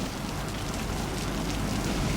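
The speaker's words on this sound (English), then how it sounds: "just look at the rain" Steady rain falling outdoors in a garden, a dense even hiss of drops with no pauses, fairly close and moderately loud.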